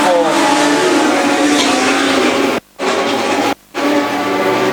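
Legend cars race close together on an oval track, engines roaring loudly past with a sustained revving drone, cut by two brief gaps, with a commentator talking over them.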